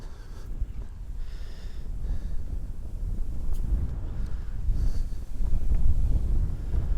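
Wind gusts across a golf course on a hot, windy day in Iowa, buffeting the microphone as a loud, continuous low roar that swells toward the end, with no talk.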